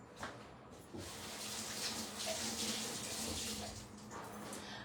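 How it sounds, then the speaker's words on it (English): A kitchen tap runs steadily while hands are washed, a faint, continuous splashing stream. "let me wash my hands"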